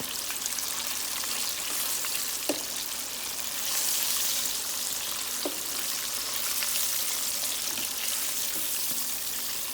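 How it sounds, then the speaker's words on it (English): Pig tails fry in hot grease in a pan, giving a continuous bright sizzle with occasional sharp pops and crackles throughout, steady and close with no talking. "I'll say let them fry about 10 minutes."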